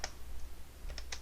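Fingers type on a computer keyboard, producing a few quick, soft keystroke clicks close by.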